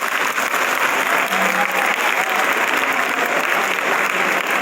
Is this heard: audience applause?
yes